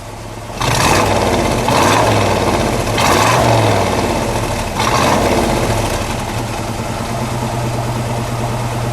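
A 1958 Chevrolet Corvette's 283 cubic inch V8 idles close by, then revs in several short bursts, each throttle blip rising and falling back to a steady rumble.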